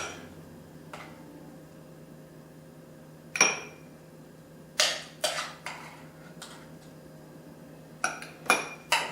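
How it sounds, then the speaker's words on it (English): A spoon scrapes and clinks against ceramic ramekin dishes as creamed spinach with cheese is portioned out, several sharp separate taps and clatters, some in quick pairs, close by against a quiet kitchen background. "I'm going to put this in the ramekin dishes."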